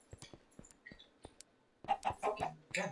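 A Minecraft chicken clucks in a quick burst of several loud, choppy calls near the end, after quieter scattered game clicks and thumps.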